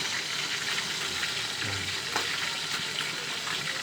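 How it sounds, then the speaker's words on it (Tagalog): Milkfish (bangus) frying in a pan gives a steady, close hiss and crackle of hot oil that runs evenly throughout, with no voices over it. "Sa kabila, nagpipirito pa rin tayo ng bangus."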